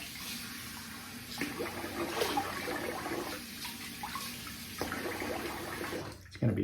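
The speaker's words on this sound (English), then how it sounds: "let's finish rinsing." Tap water runs steadily into a sink for rinsing after a traditional wet shave, a soft, continuous splashing that swells at moments, with a brief clatter near the end.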